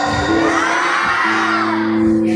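Elementary schoolchildren at a school in Klangon shout together loudly in response, with a full, sustained crowd roar of young voices that swells and holds throughout.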